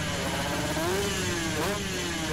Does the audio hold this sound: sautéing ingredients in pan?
no